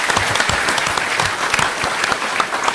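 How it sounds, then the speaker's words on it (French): Audience applause at a conference-debate in New Caledonia, heavy, even clapping from many hands, close and loud, lasting a few seconds without pause. "Voilà, et on peut l'applaudir."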